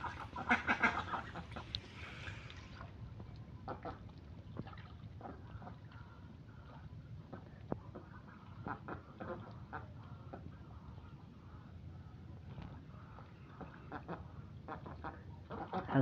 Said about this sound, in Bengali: হাঁসগুলা শামুক খুঁজতেছে পানিতে দেখেন